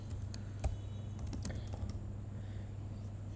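Light clicking of typing on a computer keyboard, a handful of quick keystrokes including an Enter press, close and fairly quiet over a faint steady hum.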